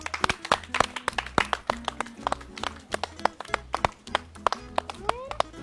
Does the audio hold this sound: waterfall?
no